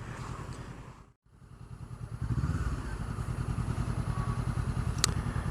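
A BMW R nineT motorcycle engine runs with a steady, throbbing low pulse that dips briefly near the start, then returns louder and holds an even rumble throughout, close and continuous, with no talking.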